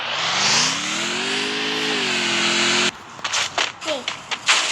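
A vehicle engine revs in the Free Fire video game, a rising then steady whining drone for a few seconds before cutting off, followed by clicks and excited overlapping voices.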